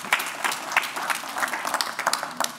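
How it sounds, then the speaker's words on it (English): A conference audience claps after a talk, a brief burst of many hands with sharp individual claps standing out, fairly close and without speech over it. "big round of applause for Alex, please."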